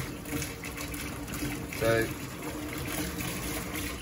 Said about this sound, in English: as the water's going down, it actually wants to suck my plunger down.